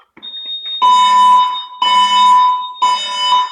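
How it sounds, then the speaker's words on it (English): A loud electronic fire alarm, set off by a pull station, blares in three repeated bursts, each a harsh pulsing tone with short gaps between, close and piercing. "the way you activate the fire alarm is to lift the top, pull straight down, and here's the alarm"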